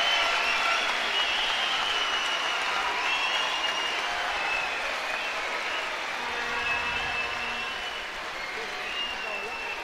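Crowd at a European judo championship in Tel Aviv applauds and cheers after a win, a steady wash of clapping from a distant arena, with a commentator talking over it.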